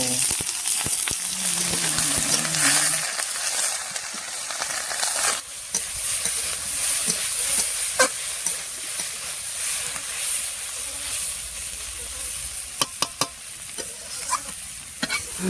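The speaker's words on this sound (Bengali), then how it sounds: "গাজর আছে, লাল বিট আছে, মটরশুঁটি আছে, রান্না হচ্ছে চুলোতে" Carrots, red beetroot and peas fry on a home stove, giving a steady sizzling hiss with scraping stirs and occasional clinks, close and fairly loud throughout with no talking.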